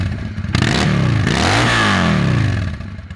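A 1995 Honda VT600 bobber motorcycle with the exhaust baffles removed, its engine revving hard and close, rising and falling in a throaty open-pipe roar that holds loud for several seconds before easing off.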